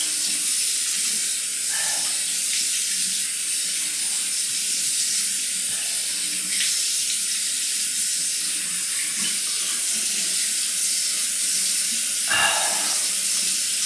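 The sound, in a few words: water running from tap while rinsing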